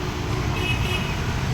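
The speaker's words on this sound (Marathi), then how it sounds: "रस्त्यावरची ट्रॅफिक हे ते." Street traffic on a city road passes close by in a brief burst of engine rumble and tyre hiss, a steady mix of cars and larger vehicles with no clear horn.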